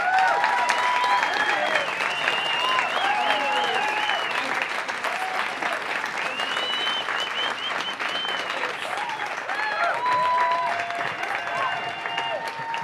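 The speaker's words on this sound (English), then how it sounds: "Let's give another round of applause for Liz." Crowd applause after a storytelling performance, sustained, even clapping filling the room, with scattered cheers and whoops rising above it throughout.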